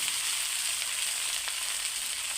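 Rice frying in a hot pan, a bright, steady hiss of sizzling that stays even and close throughout, with faint stirring underneath and no talk.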